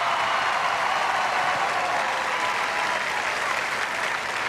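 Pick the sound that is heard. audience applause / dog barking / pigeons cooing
audience applause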